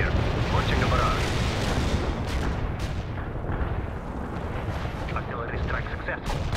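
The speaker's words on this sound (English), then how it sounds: "Artillery strike successful." In the strategy game World in Conflict, a Soviet artillery barrage falls with a dense, continuous rumble of explosions and several sharper blasts, loud and sustained throughout, with game radio voices heard beneath the bombardment.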